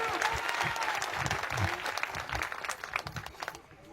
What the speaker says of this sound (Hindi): लगा दो जोरदार तालियां